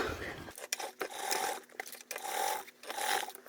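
A sewing machine stitches a thick seam on a tote bag, and someone hand-cranks it through bulky layers. Quiet, uneven bursts of mechanical whirring and clicking stop and start, with a voice speaking faintly over them.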